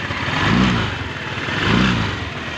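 A vehicle engine runs just after its fuel pump was repaired, swelling twice in revs with a steady broadband roar in between, close and fairly loud with no talk.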